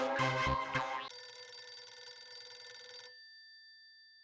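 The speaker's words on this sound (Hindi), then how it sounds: "रुस्तम जी का फोन" A telephone rings in a home scene from an Indian TV sitcom: a short burst of electronic ringing followed by a sustained, clear ringtone that fades out, heard alone.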